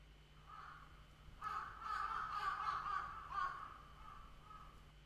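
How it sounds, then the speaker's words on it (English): A crow in the video game Seabed gives a few distant, hoarse caws over a low steady hum, faint and unaccompanied by speech. "A crow sounded a shriek, letting the slumbering city know that morning had come."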